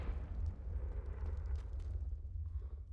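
A Confringo spell explodes in Hogwarts Legacy, producing a deep, rumbling fiery blast that stays heavy and sustained, fairly quiet overall, and then tapers off at the end, with no voices.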